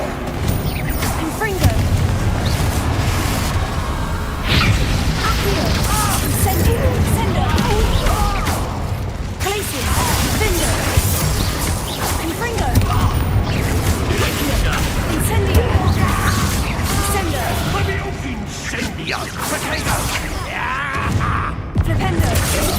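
Spell explosions, fiery blasts and magical impacts from the Hogwarts Legacy video game, a dense, loud and continuous barrage of booms, crackles and whooshes layered with shouted incantations.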